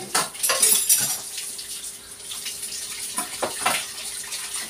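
Water runs from a tap while plates are washed in a sink, a close rushing stream with occasional splashes and faint clinks of dishes.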